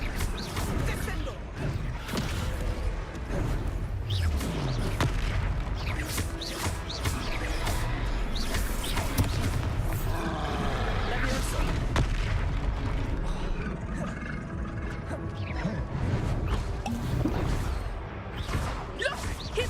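A Descendo spell strikes in the Hogwarts Legacy video game, with booming impacts and whooshes inside a dense, loud, continuous battle mix as voices speak over it.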